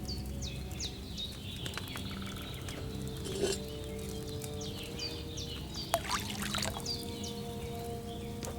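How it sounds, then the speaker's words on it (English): Wine pours steadily into a cauldron in the video game Kingdom Come Deliverance II, a continuous liquid trickle beneath clucking chickens and chirping farmyard ambience. "Don't worry, I poured wine in there."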